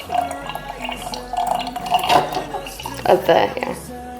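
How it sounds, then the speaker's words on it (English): Distilled water poured from a large, full, heavy container into glass, a gurgling, splashing stream with uneven glugs over a few seconds while someone talks. "the first pour is so hard because it's so giant and so full"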